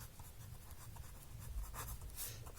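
A pen writes an equation on paper in a run of faint, close scratchy strokes with brief pauses between them.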